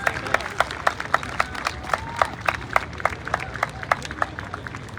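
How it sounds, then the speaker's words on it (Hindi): Scattered applause at a Republic Day ceremony for an NCC cadet of 3 Gujarat Battalion, Baroda, as he receives an award: a crowd's sharp claps recurring unevenly across the moment, moderately loud, with a faint murmur beneath. "जोरदार तालियां चाहिए इनके लिए।"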